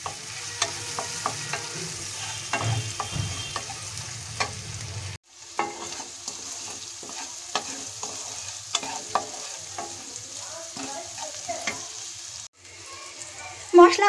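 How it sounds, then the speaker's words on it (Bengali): Spices with salt, turmeric and Kashmiri red chilli powder fry in a pan, a soft sizzle broken by repeated scraping and clacking strokes as they are stirred, close by. "মশলাগুলো আমি একটু ভেজে নেব।"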